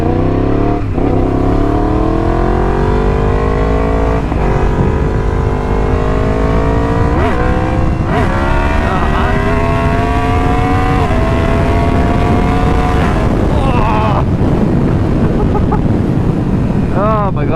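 A motorcycle rides along a road, its engine note climbing repeatedly through the gears under heavy, constant wind rush at the microphone.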